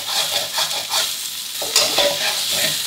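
A spatula scrapes and stirs canned fish fried rice around a hot wok in quick repeated strokes, with a soft sizzle running underneath, loud and close with no talking.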